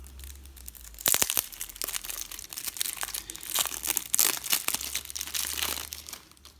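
Plastic wrap being torn and crinkled off a pack of Blackwood board game cards, close and fairly loud, with sharp tearing bursts then sustained crumpling.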